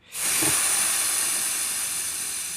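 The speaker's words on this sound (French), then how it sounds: "Alors maintenant on va dégonfler le pneu." Air hisses sharply out of the valve of a deflating tyre on an SXT XL 1600W electric scooter, a loud, close, continuous rush that starts abruptly and holds steady with a slight fade.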